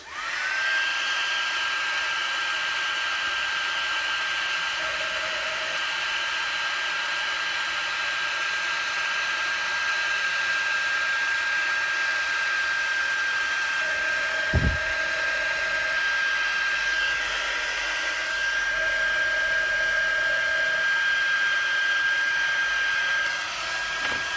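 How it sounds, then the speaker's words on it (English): A craft heat tool blowing from underneath to melt clear embossing powder gives a steady, close, continuous fan whoosh with a thin high whine, running uninterrupted for the whole stretch with no talking. "I'm going to heat from underneath"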